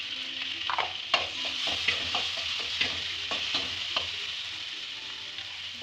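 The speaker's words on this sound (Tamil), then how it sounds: "நல்லாலாம் வதங்கணும்னு இல்லை, லைட்டாக வதங்கினா போதும்." Onions and tomato sauté in a pan, giving a bright continuous sizzle close by, with a spoon scraping and tapping the pan at irregular intervals and nobody speaking.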